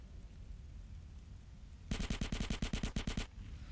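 SMG fire in GTA San Andreas with a New Grove Street mod, a single rapid burst of about fifteen sharp shots lasting over a second, loud against a low background rumble.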